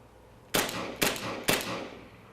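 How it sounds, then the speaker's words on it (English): Three gunshots at an indoor shooting range, fired in quick succession about half a second apart, loud and close, each sharp crack followed by a brief echoing decay. "Now on this we're going to do up multiple 3 to 5 rounds."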